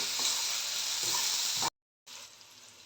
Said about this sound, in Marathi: भाजी ढवळून घेते म्हणजे तिखट मीठ सगळं आपल्या कांद्याला आणि डाळीला लागेल.